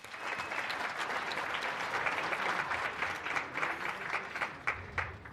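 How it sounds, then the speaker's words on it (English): Sustained applause from an audience at a mathematics and science awards ceremony, a dense wash of many hands clapping at a moderate distance that thins into scattered claps near the end, with no talk over it. "A round of applause to him once more."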